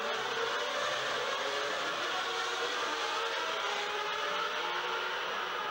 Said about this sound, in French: Et c'est reparti dans l'enfer des moteurs avec Berger tout en tête.